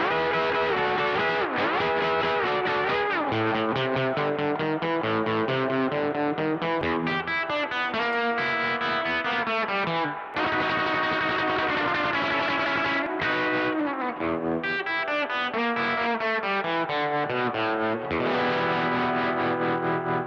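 Distorted Danelectro electric guitar plays a continuous melodic line with chorus and echo effects, loud and alone, with brief pauses between phrases.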